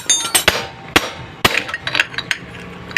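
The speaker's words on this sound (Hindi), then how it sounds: "छेनी से ही हमें टाइट करना पड़ेगा" Sharp metal-on-metal hammer blows on a chisel, tightening the clutch nut of a Hero Glamour motorcycle: about eight irregular ringing strikes, loud and close, with a few lighter taps in between.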